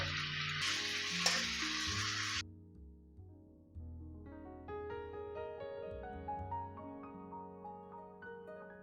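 Chopped onion sizzles in a pan after browning, with half a tablespoon of garlic paste added; a loud bright frying hiss for the first couple of seconds, then quieter bubbling and soft stirring clinks for the rest.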